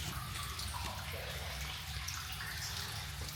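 Water runs and drips steadily inside the Vinh Moc tunnels in Vietnam, a close, continuous wet trickle and splash with no pause.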